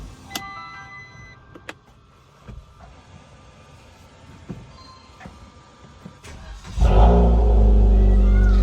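A Maruti Brezza car engine starts up and its exhaust rumbles loudly near the end, preceded by quiet mechanical ticks and clicks in a workshop setting.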